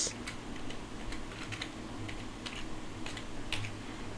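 A computer keyboard clicks with quiet, irregular keystrokes, each tap light and close, with no speech.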